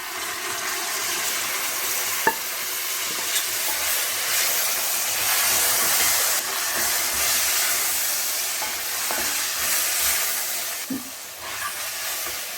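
Previously cooked beef hisses and sizzles steadily in a pan with garam masala and spices while pepper beef roast is made, a loud, continuous frying wash with a few faint clinks and no talking.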